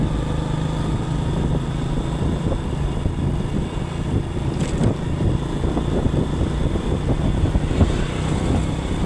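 Motorcycle engine rumbling and passing along a street in Indonesia, a steady droning roar with broadband road and wind noise, fairly loud and continuous, no talking.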